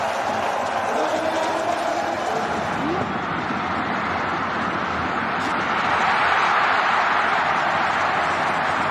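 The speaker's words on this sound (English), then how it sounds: "still applause for Coyote as he comes across" Steady roar of applause and crowd noise in a football stadium during a match, a broad, continuous wash of sound that swells slightly near the end, with commentary voices faintly beneath.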